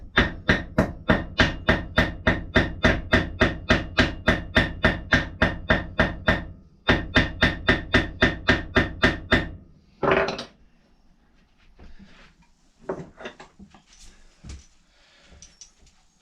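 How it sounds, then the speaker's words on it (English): About two dozen sharp, evenly spaced hammer blows on a metal car battery terminal ring out close by in a steady rhythm, pause briefly, then continue before a few scattered clanks. "I've hammered that over now"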